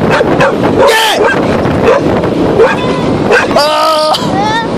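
Dogs yipping and barking in quick bursts around people reacting loudly outdoors, with excited talk and shouting nearly throughout.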